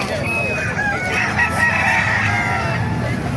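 A Boston Sweater gamecock, eight months old, crows loudly and close at a Calumpit, Bulacan poultry market, its long call standing over steady crowd noise and other birds.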